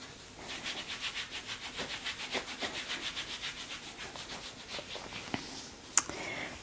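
Hand rubbing kinesiology tape onto a swollen ankle and foot, a soft rhythmic back-and-forth friction of roughly a dozen quick strokes, close and quiet, ending with a couple of faint taps.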